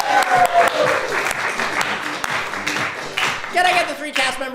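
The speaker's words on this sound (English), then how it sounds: "applause." Audience applause fills a comedy club during an improv show, a dense wash of clapping that stays loud and steady throughout, with a voice briefly rising over it.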